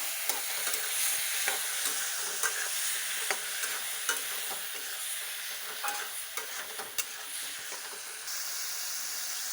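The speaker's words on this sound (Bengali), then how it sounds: "পরিমাণ মতন মরিচ, 3টা কাঁচা লঙ্কা সামান্য কষিয়ে নেব।" Green chillies and pepper sauté in a hot pan, giving a steady bright sizzle and hiss throughout. Sharp spatula clicks and scrapes come at irregular moments, close and clear, with no one speaking.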